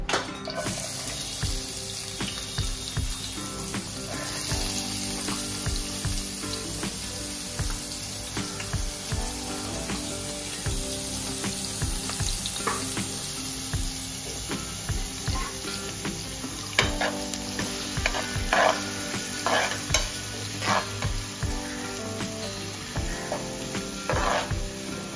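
Chopped onion fries in hot oil in a heated pan, a dense steady sizzle with occasional spoon clatter and scraping, close and loud throughout with no talking.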